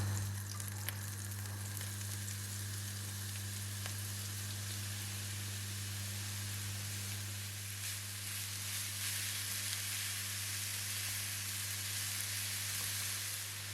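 Grated apples cook in a teaspoon of butter in a pan, producing a soft, even sizzle that hisses steadily throughout over a low constant hum, with no talking.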